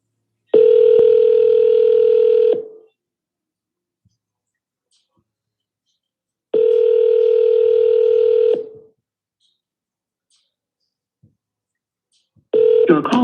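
Three long telephone ring-back tones from an outgoing call, each a steady buzzing tone about two seconds long, separated by long silences, with the third starting at the end.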